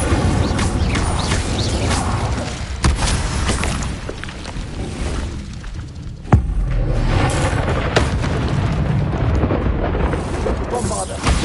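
Constant loud crashing blasts and rumbling explosions from Bombarda and Confringo spells in the video game Hogwarts Legacy, with sharp bangs punctuating a dense roaring background while a voice talks through it.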